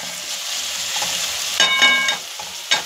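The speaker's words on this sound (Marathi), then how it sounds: "अशा रीतीने आपण कांदा टोमॅटो परतून घेत आहोत." Onion and tomato with dried shrimp sautéing in a pan, a steady sizzle and crackle with a few scraping stir strokes near the end, heard alone without talk.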